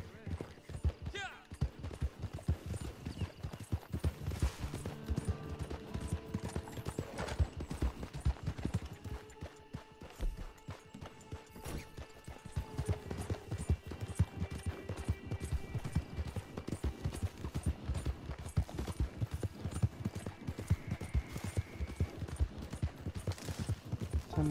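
Horse hooves gallop in Red Dead Redemption 2 online play, a steady, loud clopping rhythm that runs throughout, with other game sounds and voices mixed in.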